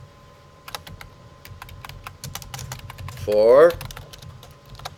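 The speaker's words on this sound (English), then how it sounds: "okay, I'll type it in by hand" Steady, close typing on a computer keyboard: a quick run of light key taps while someone speaks over it, with a brief louder voice rising near the end.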